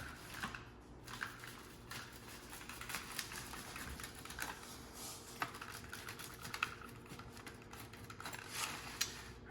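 A pizza cutter rolls through a pizza, giving a steady stream of soft crunchy crackles and scraping taps against the board, close and moderately quiet throughout.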